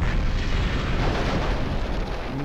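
Mech weapons fire in the PC game MechCommander Gold, a dense, continuous barrage of booming, explosive blasts that roars steadily and loudly throughout, with no voices over it.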